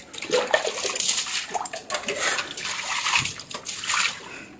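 A bucket of water poured out to wash a home balcony, a continuous rushing splash and slosh on a hard floor, loud and close throughout.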